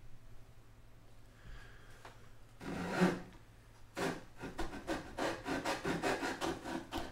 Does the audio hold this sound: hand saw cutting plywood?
yes